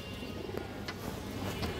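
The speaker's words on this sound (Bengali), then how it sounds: "সিলভার মাদি কবুতর আছে, অনেক সুন্দর একটা মাদি কবুতর দর্শক।" Silver female racing pigeon cooing softly nearby, a few low murmuring coos over a steady background hum, with no talk.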